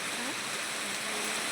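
Hail pouring down in a storm, a steady dense hiss and patter that stays at an even, fairly loud level throughout with no talking.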